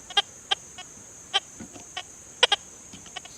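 A Deus 2 metal detector in its Gold Field program gives a weak signal over a nickel lying on edge: short, irregular electronic beeps, some in quick pairs, sound over a thin, steady high-pitched whine.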